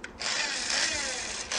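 An electric grinder whirs loudly as it grinds toasted Moroccan seven-spice mix in a restaurant kitchen, a short high-pitched continuous burst that starts up after a brief pause.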